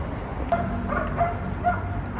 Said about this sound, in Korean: 개 짖는 소리 좀 안 나게 해라